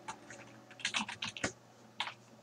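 Typing on a computer keyboard while setting up an Unturned game server, with irregular bursts of close, crisp key clicks and a few heavier thumps, no talking.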